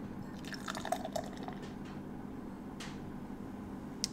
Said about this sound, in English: let's pour it up.